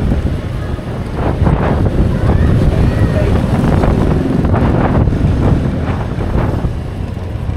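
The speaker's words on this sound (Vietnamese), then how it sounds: "gió đông bắc nè." Strong northeast wind blows beside Thi Nai lagoon in Quy Nhon, a loud, steady roar buffeting the microphone with surging gusts throughout, with a deep low rumble and possible water sounds beneath.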